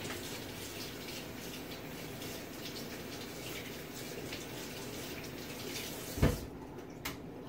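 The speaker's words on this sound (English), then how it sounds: "So I'm going to wash my spatula." Tap water runs steadily into a kitchen sink while a spatula is washed, a faint continuous hiss that stops abruptly near the end with a brief clunk.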